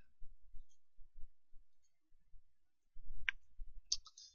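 Sparse, light key clicks from a computer keyboard in a quiet room, typed in small irregular clusters, with a couple of sharper clicks near the end.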